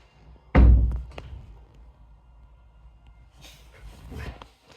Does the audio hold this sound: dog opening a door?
yes